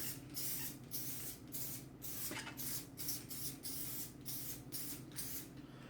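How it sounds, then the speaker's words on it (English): Repeated short hissing bursts from a spray can of adhesive, about a dozen quick sprays in an uneven rhythm, close up with no talking, during repair of an Atari Centipede arcade machine. "We're just going to spray some adhesive in there."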